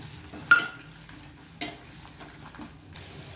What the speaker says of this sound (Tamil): கொஞ்சம் போல் நல்லெண்ணெய் விட்டுக்கலாம். 4 காஞ்ச மிளகா, கொஞ்சம் வெங்காயத்தையும் போட்டு நல்லா வதக்கிக்கலாம்.